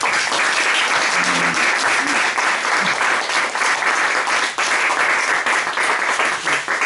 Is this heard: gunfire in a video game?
no